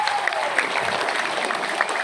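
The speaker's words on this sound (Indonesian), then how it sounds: "Tepuk tangan dulu buat Pak Kapolsek." Audience in a mosque gathering in Jambi claps for a police chief, a short steady burst of dense applause at moderate loudness.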